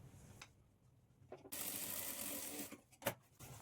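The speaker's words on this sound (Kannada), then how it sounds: "ಸೇಮ್ ಇದೇ ಥರ ಈ ಕಡೆನೂ ಸಹ ಸ್ಟಿಚ್ ಮಾಡ್ಕೊಳ್ಬೇಕು." A sewing machine stitches a scalloped blouse neck design, running in one steady burst of whirring for about a second after a few faint mechanical taps, then stopping with a sharp clack.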